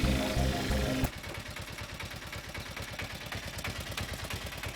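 Vehicle engine idling after coming to a stop in a Tamil comedy scene. A loud tonal sound in the first second gives way to a steady, rapid, low chugging pulse.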